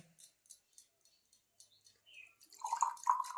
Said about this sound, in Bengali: এবার জলটা দিয়ে দাও গঙ্গা জল মিশানো আছে